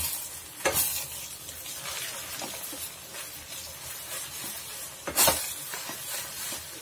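Gongura and fenugreek chutney cooking in oil, with yellow turmeric and fenugreek powder added: a steady close sizzle and frying hiss with stirring scrapes and two sharper spoon clatters, no talk.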